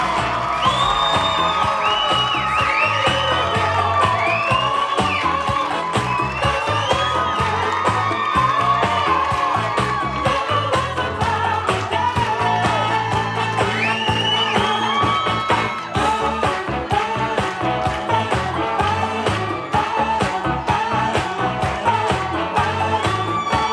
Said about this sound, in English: How about a nice big round of applause for Clara and Craig?